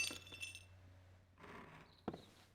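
Glass clinks in an Oculus Rift VR game, with faint scattered clinks and one brighter sharp clink near the end over a low steady hum.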